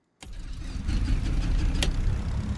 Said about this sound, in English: Our engine is started.